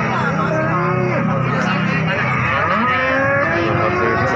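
Several Limousin cattle moo loudly and nearby at a cattle market, long lowing calls overlapping one another, with people talking in the background.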